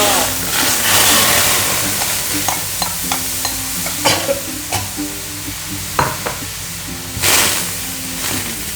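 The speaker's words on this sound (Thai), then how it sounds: "็ผัดให้หอมหน่อยๆนนะคะ เครื่องแกง" Curry paste stir-fried in a large pan: a steady sizzle broken by repeated sharp scrapes and knocks of a spatula against the metal, close and fairly loud.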